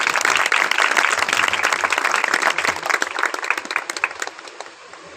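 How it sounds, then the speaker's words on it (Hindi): A church congregation at a memorial service breaks into loud, dense applause that holds steady for several seconds and then thins out into scattered claps near the end. "आपकी भरपूर तालियों में दावत देता हूँ"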